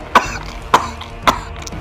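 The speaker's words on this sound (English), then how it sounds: "continued to cough" Three sharp, evenly spaced coughs from one person, close and fairly loud, in quick succession.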